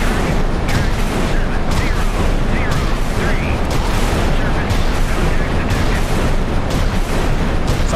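Warships trade rapid, continuous gunfire in a naval combat video game, a dense, loud, unbroken barrage of booms and blasts filling the whole stretch with no pauses.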